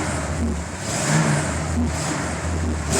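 A Yamaha Virago motorcycle engine idles steadily nearby, a constant mid-pitched rumble that swells slightly partway through, with no one talking.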